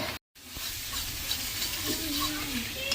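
Spinach frying in a pan, a steady close sizzle and hiss held throughout after a brief silent cut at the start, with no talk.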